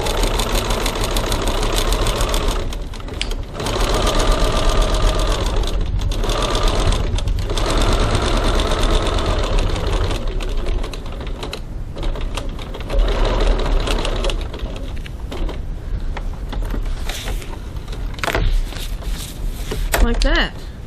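A sewing machine fitted with a zipper foot runs in a steady rapid mechanical whir through most of the stretch, pausing briefly a few times, loud and close.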